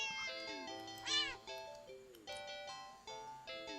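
Cat meowing in the video game Do Not Take This Cat Home, a rapid series of loud, rising and falling meows close up, one after another with no talk over them.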